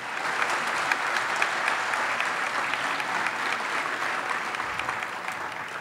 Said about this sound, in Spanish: Fuerte el aplauso entonces para Lucas Vilar.